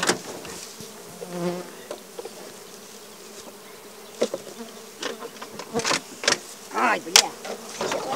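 Wasps buzzing around their nest in a forest during a forester's workday, a close droning hum that swells as insects pass near, with sharp knocks and movement noises in the second half.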